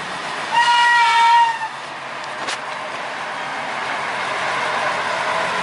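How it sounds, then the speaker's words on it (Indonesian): Amphibious sugarcane locomotive on a narrow-gauge cane line, passing a flooded level crossing, sounds its horn in a sustained, loud blast, then a sharp clank follows and steady rumble of the engine and wheels runs on, with no talk. "sebentar lagi lokomotif amfibi akan melewati perlintasan"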